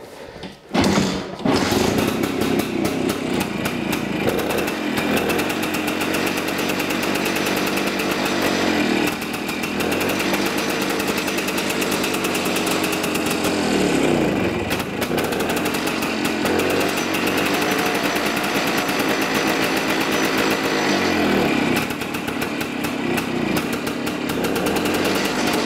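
A 1960 BSA Bantam D7 motorcycle engine, choke on, fires after a kick start and keeps running loud and close with a raspy, buzzing note, its revs rising and falling for about twenty-five seconds.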